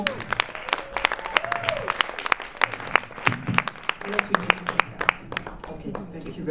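An audience at a Nigerian Stock Exchange event gives a round of applause for someone speaker, many hands clapping steadily and closely with crisp separate claps, voices murmuring faintly underneath throughout.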